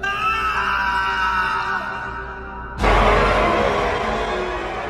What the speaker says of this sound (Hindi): डर से त्रिलोक की चीख निकल गई